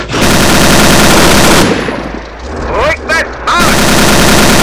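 Tank cannon firing a high-explosive shell in the Steel Fury: Kharkov 1942 tank game, a Panzerjäger Tiger Ausf. B; loud sustained blasts and rumbling gunfire dominate, with a brief lull of mechanical noise and a voice mid-clip.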